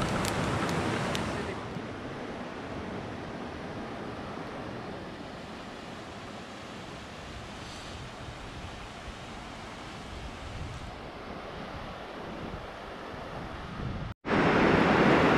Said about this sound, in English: Jordan, Tori taking the far left side here at Exam Time Rapids.